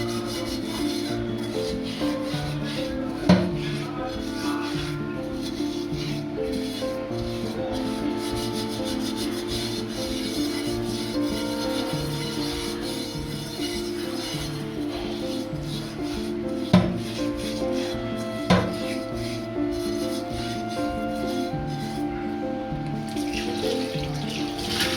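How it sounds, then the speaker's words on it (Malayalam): A pan scrubbed with a scrubber and Vim dishwash in a kitchen, with steady rubbing and rasping strokes in a repeating rhythm and occasional clinks and water sounds, continuing for about twenty-five seconds. "ആദ്യം ഒന്ന് വാഷ് ചെയ്തതിന് ശേഷം പിന്നെ ഈ സ്ക്രബ്ബർ ഇട്ടിട്ട് നമ്മൾ വിമ്മിട്ടിട്ടാണ് കഴുകണത്."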